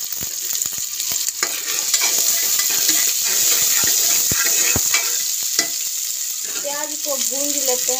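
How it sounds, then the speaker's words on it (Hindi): Onions fry in a pan of hot oil with panch phoron, a steady close sizzle with scattered sharp pops and utensil clicks throughout, and a faint voice comes in near the end. "प्याज को भूंज लेते हैं पहले"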